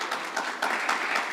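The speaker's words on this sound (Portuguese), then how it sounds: "Você pode aplaudir a palavra de Deus?" Congregation applauding in a Portuguese-language church service, a short burst of crowd clapping, fairly steady and moderately loud.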